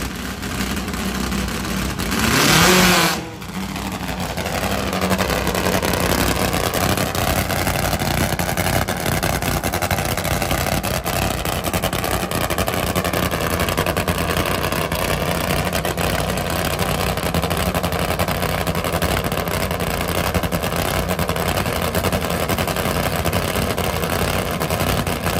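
A Top Fuel drag motorcycle, the Outline bike, roars down a drag strip: a loud, sustained, harsh engine blare that carries on throughout, with a brief surge and dip near the start.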